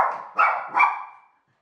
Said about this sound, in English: I'll just go and stop that noisy dog.